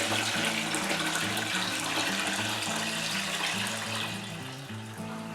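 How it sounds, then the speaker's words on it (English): Liquid elderflower champagne base pours steadily from a vessel through muslin bags into a bucket, a continuous close splashing trickle with a low tonal hum underneath, easing slightly toward the end. "I'm going to gently pour this in and strain off all the elderflowers"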